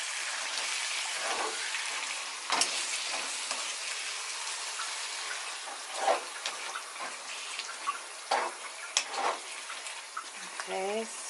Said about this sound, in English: So I'm just going to mix that up